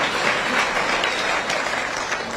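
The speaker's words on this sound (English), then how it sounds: "Please give me a clap." A political rally crowd applauds steadily throughout, a dense wash of clapping that stays at an even level with no voices standing out.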